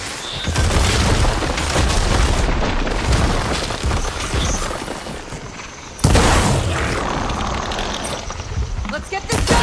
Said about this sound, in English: See those glowing crystals? Takes one hit to detonate.